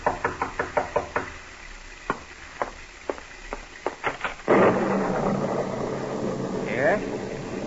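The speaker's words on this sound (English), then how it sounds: "you're startled by a knock on the door." A knock on a door in an old radio drama, a series of sharp raps at a steady rhythm followed by a few spaced knocks before a burst of background noise.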